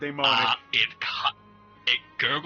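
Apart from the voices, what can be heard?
No everyday noises stand out.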